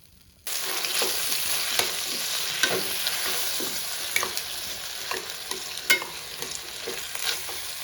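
Chopped tomatoes being stirred into onions frying for a Tamil chicken curry, a steady close sizzle under repeated scraping strokes of a spoon against the pan, with no talking.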